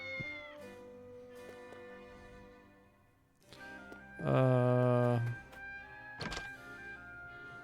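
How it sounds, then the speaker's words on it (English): A cat in the video game Triangle Strategy gives a loud, drawn-out meow in the middle, framed by quieter game menu blips and soft music, with a few thunking interface sounds around it. "Cat."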